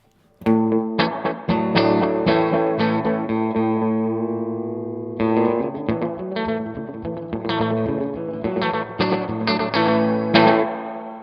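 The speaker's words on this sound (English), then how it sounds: "So heaps of reverb, but I don't feel like my tone is being swallowed all by the reverb" An electric guitar played through Universal Audio UAFX pedals rings out in clean, chiming chords and arpeggios drenched in heavy reverb with a touch of short delay, notes blooming and sustaining alone with no talking.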